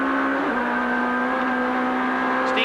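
Onboard a 1991 British Touring Car Championship race car, the engine drones loud and steady at high revs, its pitch dipping briefly as it shifts and then holding on, with no voices over it.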